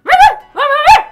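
A person voicing a dog in a Roblox jump map gives two short, loud, close, whiny bark-like yelps. It is a human imitation of a dog, not a real animal.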